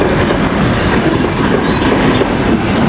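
A freight train of tank cars rolls steadily past nearby, a continuous loud rumble with rhythmic clickety-clack of wheels over rail joints and faint squeal, no voices.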